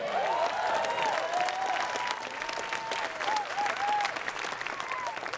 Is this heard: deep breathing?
no